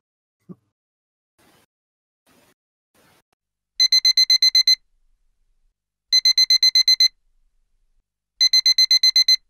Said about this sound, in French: Et voilà, il sonne. Une fois de plus, comme tous les jours, mon réveil me réveille.